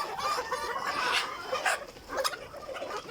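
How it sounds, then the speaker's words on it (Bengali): Mature Egyptian Fayoumi hens clucking close by in a busy, overlapping run of short calls and squawks, steady throughout with no talk. "এই যে মুরগিগুলো দেখতেছেন এগুলো কিন্তু ম্যাচিউরড হয়ে গেছে"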